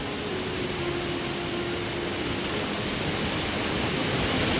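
Muddy floodwater from heavy monsoon rain in a Konkan village rushes through a drain near a bridge, a loud, unbroken broadband roar close by with no talking.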